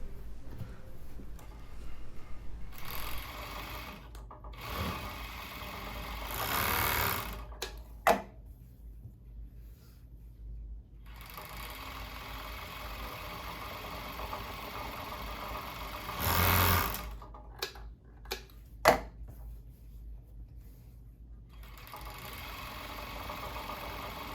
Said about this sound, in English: And we can serge the rest of the edges.